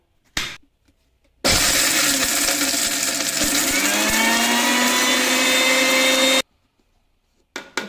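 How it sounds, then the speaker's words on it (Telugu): A kitchen mixer grinder pulverises almonds for a homemade cream. After a short knock, the motor roars for about five seconds at a steady, loud, close level, and its pitch shifts slightly as the nuts break down. Then it stops abruptly, followed by faint clicks. "ఈ బాదం అన్నీ కూడా అందులో వేసేసుకొని ఫస్ట్ ఒకసారి మిక్సీ పట్టుకోవాలా"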